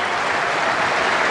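A crowd at Adelaide Oval applauds a batsman reaching his half century in an Ashes Test, a steady, continuous wash of clapping that is loud and fills the whole moment with no voices over it.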